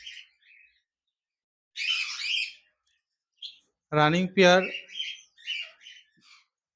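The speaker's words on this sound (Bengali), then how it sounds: "এখানে দেখতে পাচ্ছেন এক জোড়া জেব্রা ফিন্স পাখি রয়েছে" A pair of zebra finches in a cage give short, bright chirps and squawky calls in brief bursts with silent gaps between them, while someone speaks briefly nearby.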